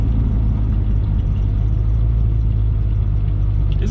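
A supercharged Ford Coyote V8 swapped into an SN95 Mustang, with free-flowing exhaust and fouled plugs, runs at a steady, loud, deep rumble close by, continuous and unbroken.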